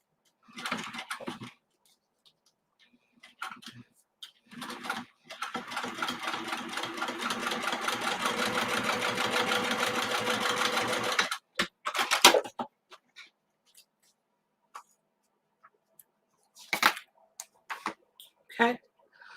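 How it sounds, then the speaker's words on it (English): A sewing machine top stitches the exterior fabric of a mini messenger bag, running in one steady sustained burst of several seconds, preceded and followed by brief talk and handling sounds. "I'm just going to top stitch."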